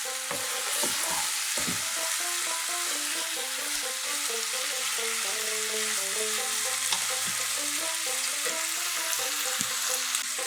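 Ground spices frying in a little water on a medium-low flame for duck egg kosha, a dense steady sizzle under repeated stirring scrapes, close and continuous.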